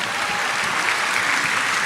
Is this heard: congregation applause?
yes